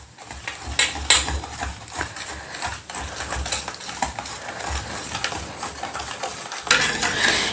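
Jaggery, milk and vanilla essence stirred together in a bowl for a ragi cake, a steady scraping and clinking of a spoon against the bowl, close and continuous with louder strokes near the start and end.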